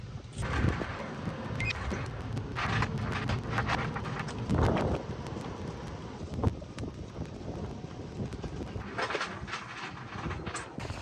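Steady wind roars across the microphone aboard a sailing boat at sea, beating upwind with the breeze about 60 degrees off the bow, with gusty surges and rushing noise throughout and no talk.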